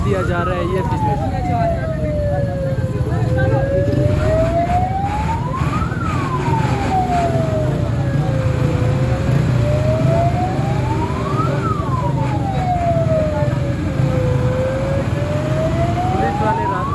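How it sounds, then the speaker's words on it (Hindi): An ambulance in blocked traffic sounds a wailing siren that rises and falls in long, slow sweeps about every six seconds, loud and close over the hum of traffic, with voices speaking in the background. "एम्बुलेंस को रास्ता दिया जा रहा है।"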